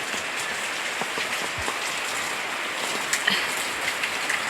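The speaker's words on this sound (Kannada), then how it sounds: "ಮಳೆ ಬರ್ತುಂಟು ನೋಡಿ" Steady rain patters on a surface, a dense continuous hiss of drops with a few louder splashes standing out.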